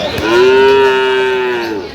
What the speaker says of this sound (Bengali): গাভী বাছুর আমরা দেখছিলাম